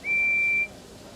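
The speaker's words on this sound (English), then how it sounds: "Let's listen to Percy's whistle." Percy the small green tank engine from the Thomas & Friends game Wonders of Sodor sounds a single shrill, steady train whistle lasting about half a second, loud and alone, then cutting off into quiet.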